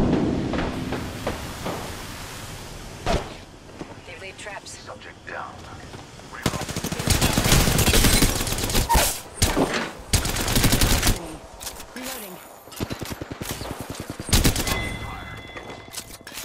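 Video game gunfire rattles in repeated bursts of rapid automatic fire, loud and close, broken by short pauses and a few single shots, with faint voices underneath.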